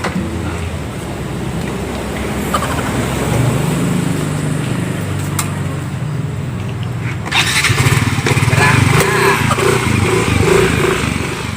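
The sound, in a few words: motorcycle engine running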